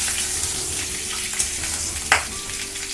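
Potatoes frying in white oil in a pan, a steady close sizzle with a few stirring clatters and scrapes cutting through it.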